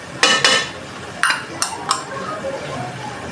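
Spices frying in a pan, a soft sizzle underneath sharp metallic scrapes and clinks as a spoon stirs them, a few quick strikes spaced unevenly, close and fairly loud.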